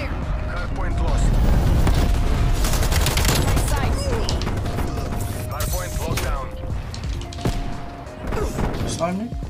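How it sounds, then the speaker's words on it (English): Call of Duty Cold War match during an enemy napalm strike: loud, dense roaring explosions and rumbling fire with scattered gunfire and impacts, while players talk over the chaos. "Enemy napalm strike incoming."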